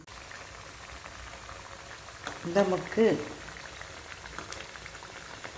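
Snacks made from Amrutham powder deep-fry in hot oil with a soft, steady bubbling hiss; a person speaks briefly over it midway.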